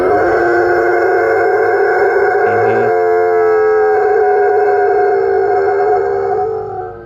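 A dog lets out a long, sustained, wavering howl, loud and close, holding steady for several seconds before fading, with a siren heard alongside and no voices.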